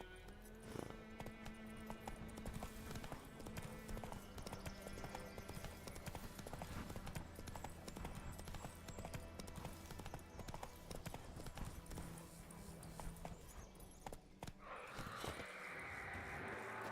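Horse hooves clip-clop steadily in The Witcher 3, a continuous rhythmic trot running under game music and ambience for the whole stretch, with a brief change in texture near the end.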